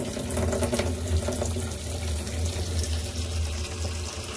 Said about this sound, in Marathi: अशा प्रकारे 5 मिनिटात पाणी भरत आहे आपलं लगेच